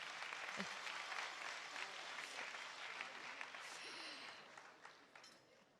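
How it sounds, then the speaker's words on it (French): Applause from the audience at the 2024 international final of Ma Thèse en 180 secondes, a sustained, fairly distant patter of many hands that thins out toward the end. "Allez, encore plus d'applaudissements, s'il vous plaît, pour elle."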